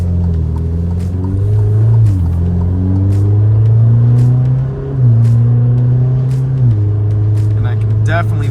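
A 2.0-litre Alfa Romeo Giulia driven hard through a series of corners: loud, close engine drone that climbs and drops with each gear change and lift, with tyre and road noise and occasional clicks.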